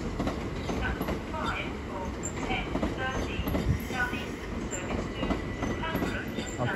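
Class 375 electric train moving through Ashford International station, a steady rumble with faint wheel clicks and rattling heard at close range, while a person talks over it.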